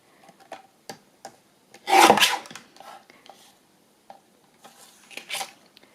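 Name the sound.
trimming magazine collage paper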